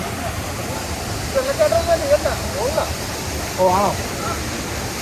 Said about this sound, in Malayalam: ഇത് ജസ്റ്റ് വെള്ളം ചാടി പോകുന്നതേ ഉള്ളൂ.